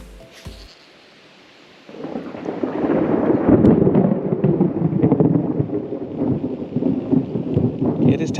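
Thunder from a lightning storm during an outdoor fishing cast test: after a quiet start, a loud, deep rolling rumble builds and keeps churning for several seconds without letup, with no talking.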